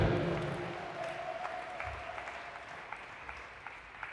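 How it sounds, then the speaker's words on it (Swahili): A church congregation applauds during an evening sermon, a dense burst of clapping that starts loud and gradually thins and fades over a few seconds, with no voices over it. "Mpe Yesu makofi jioni leo"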